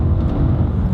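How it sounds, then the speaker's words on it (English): A BMW M3 E92 Competition Package with a naturally aspirated V8 revs in a brief, loud, close, continuous engine roar with a deep, dense low end. "Just listen to that high revving V8."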